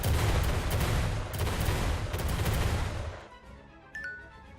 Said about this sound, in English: After the indiscriminate bombardment, Joseph's ships are obliterated.